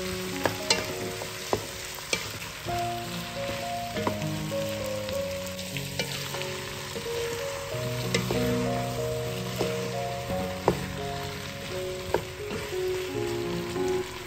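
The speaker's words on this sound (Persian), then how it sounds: "سبزیجات خرد شده رو توی قابلمه می‌ریزیم و همه مواد رو با هم کمی" Chopped vegetables for a chicken and vegetable soup sizzle as they sauté in a pot, with steady frying hiss and spoon scrapes and clinks as they are stirred.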